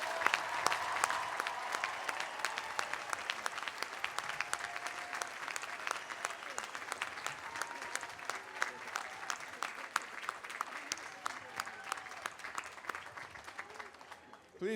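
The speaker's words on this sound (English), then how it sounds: "Please turn and offer a round of applause to all of those who made this possible" A large audience applauds at a university commencement ceremony, dense sustained clapping from a big crowd that holds steady and distant-sounding throughout.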